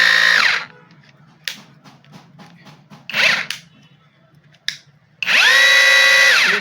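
A cordless battery 26 mm rotary hammer drill is triggered in short, loud revving bursts, spinning up and winding down. Quiet clicks and handling noises fall between the bursts, and a longer run comes at the end.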